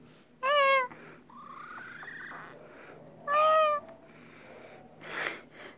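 A cat at an animal shelter meows twice, each meow a clear rising call, with a softer chirping sound between them against a quiet background.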